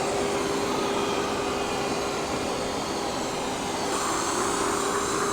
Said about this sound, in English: If you've been looking for a robot vacuum, I just honestly feel like this one does everything.